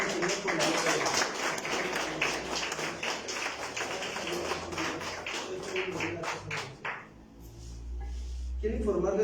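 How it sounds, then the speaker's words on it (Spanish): A congregation at a Thursday general church service applauds in a dense, lively burst lasting several seconds, then the clapping thins and fades into quieter room sound. "Vamos a darle un aplauso al Señor por la vida de Dios."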